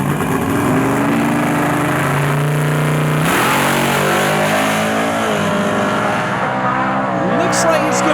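A Chevrolet Malibu and a Ford Mustang, drag-racing street cars, roar loudly as their engines rev hard and accelerate down the strip, with a shift in engine pitch midway and a continuous dense engine drone.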